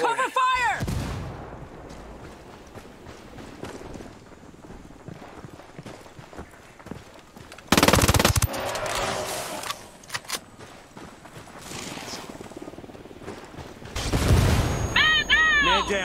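Gunfire in the video game Ghost Recon Wildlands comes in scattered shots and dense loud bursts amid battle noise, with shouted voices at the start and end of the clip.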